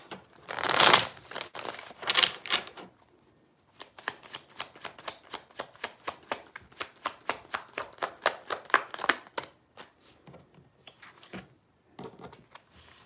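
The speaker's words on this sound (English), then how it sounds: "I'm going to shuffle this." Tarot cards are shuffled by hand close up, starting with a few loud riffles and then a long run of rapid, regular flicks and taps that trail off into quieter handling.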